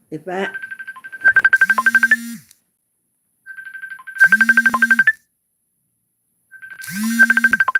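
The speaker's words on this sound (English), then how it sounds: "Oh, my phone ring, y'all." A phone ringtone rings three times in repeating bursts, each a steady tone followed by a rapid pulsing trill over a low hum, loud and close, with no talking over it.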